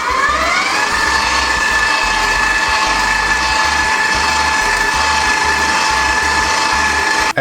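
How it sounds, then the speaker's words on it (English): Stand mixer with a paddle attachment creaming cream cheese and sugar, a loud steady mechanical whir with a constant motor whine and a faint rhythmic knocking underneath, running close and unbroken throughout. "here's a stand mixer with a paddle attachment."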